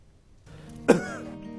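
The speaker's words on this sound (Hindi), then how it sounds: "कब से खांसी है इनको?" One short, harsh cough bursts out close by against a quiet background, with a brief throaty rasp trailing after it.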